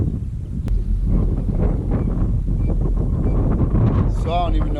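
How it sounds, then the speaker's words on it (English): Strong wind on a riverside beach buffets the microphone with constant roaring gusts, and a brief high jingle-bell chime rings out near the end. "It's so windy out here"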